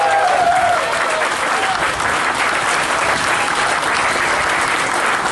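Crowd applause and cheering at an outdoor motorcycle rally, a dense steady wash of clapping that stays loud for the whole span, with a brief whistle near the start.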